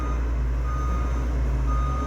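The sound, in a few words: bulldozer reversing beeps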